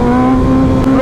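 A sports motorcycle, a Hayabusa or Ninja ZX10R riding in Ladakh, revs hard for a wheelie, giving a loud, close, steady high-pitched engine whine that climbs slightly near the end.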